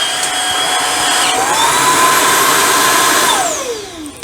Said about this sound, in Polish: Gasi się mop, zwiększa się sanie na chwilę i odkurzacz się wyłącza.